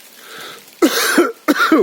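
Two harsh, close coughs, one after another, following a brief faint murmur.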